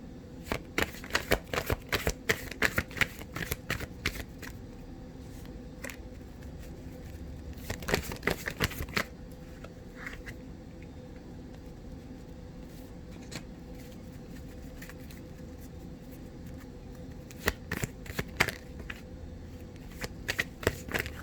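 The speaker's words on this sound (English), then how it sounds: "So let me pull a few oracle cards here and see what those are saying for you." A deck of oracle cards being shuffled close by, with bursts of rapid riffling flicks at the start, around the middle and near the end, separated by quieter handling against a low background hum.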